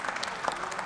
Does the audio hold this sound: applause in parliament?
yes